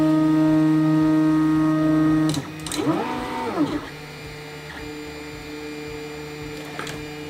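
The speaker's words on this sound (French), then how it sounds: "l'imprimante est allumée, donc comme vous pouvez voir elle fait pas trop de bruit" 3D printer running its auto-home calibration: steady motor whine and electrical hum, then stepper motors sweep up and down in pitch for about a second before settling back to a quieter hum, with small clicks.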